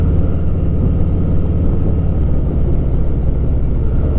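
A low, rumbling engine drones steadily nearby, a vehicle rolling past with a constant deep hum.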